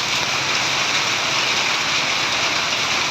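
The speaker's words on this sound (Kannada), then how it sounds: "ಫುಲ್ ಮಳೆ" Heavy rain pours onto a flooded main road in Bangalore, a dense, steady hiss of water that stays loud and unbroken throughout, with no voices.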